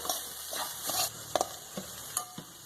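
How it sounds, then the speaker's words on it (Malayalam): Breadfruit thoran being stirred in a pan: close spoon scrapes and clacks over a steady soft sizzle, a few distinct strokes in quick succession. "നമുക്കൊന്ന് ഇളക്കി കൊടുക്കാം."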